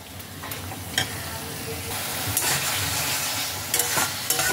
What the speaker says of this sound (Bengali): আবারও এটাকে ভালোভাবে মিশিয়ে নেব।